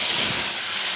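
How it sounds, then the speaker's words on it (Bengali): Potatoes frying in oil in a pan, a dense, steady hiss of hot oil, close and loud, with no other sounds. "প্রথমে আলুটা ভেজে নেব।"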